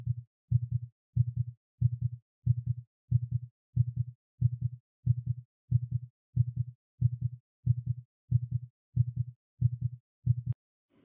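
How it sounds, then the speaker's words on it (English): A synthesized heartbeat effect built in Syntacts plays as even, low double thumps repeating steadily about eighteen times before stopping, clean and alone with no voices. "let's play our heartbeat effect using the player widget"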